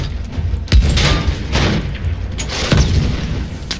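A few deep, heavy tank cannon booms in the video game Battlefield 1 go off in sequence over a low rumbling background, loud and close, with no talking.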